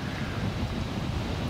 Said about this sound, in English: It's blowing 20 to 25 from the northwest, which is an onshore breeze